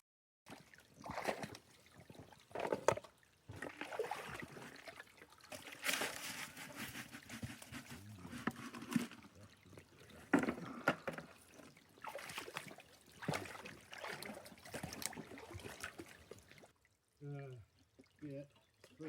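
Water sloshes and swirls in a gold pan outdoors, with intermittent trickles, splashes and pouring bursts that come and go over a quiet background, followed by brief talk at the end.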